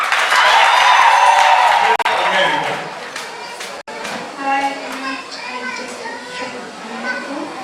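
Loud crowd applause and cheering for the groom, a pastor, during his church wedding vows with the bride, dense with excited voices for a few seconds before giving way to a single speaking voice and scattered murmurs.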